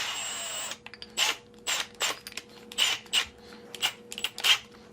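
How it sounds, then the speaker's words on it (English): Repeated short bursts of a power drill whirring while building a DIY air cannon, about eight quick pulses in an uneven rhythm after a longer opening run, close and fairly loud. "So we'll take our drill"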